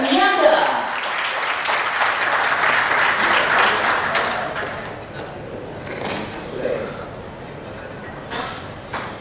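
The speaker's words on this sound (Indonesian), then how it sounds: "Untuk itu kita langsung sambut dengan tepuk tangan yang paling meriah, dia Bapak Desmianda." Audience applause welcomes a speaker at an indoor talk event, strong clapping at the start that gradually thins and fades over several seconds, with a few scattered claps near the end.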